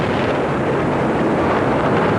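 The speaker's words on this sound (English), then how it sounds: "Pictures from the BBC of an explosion from a bomb outside a taxi in front of the BBC television centre." Car bomb outside a taxi in front of BBC Television Centre in London, heard as a loud, sustained roaring rumble that fills the whole moment without any voices.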